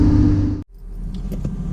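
A Ferrari-engined Alfa Romeo 105 rumbles loudly on the road, the drone cutting off abruptly, then a lower, vibrating cabin rumble carries on with faint rattles.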